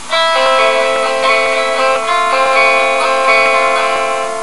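A guitar rings out a repeating barre-chord pattern from a remix, bright sustained strings picked near and clear with no one talking.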